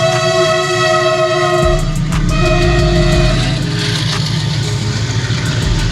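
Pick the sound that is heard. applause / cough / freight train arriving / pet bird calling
freight train arriving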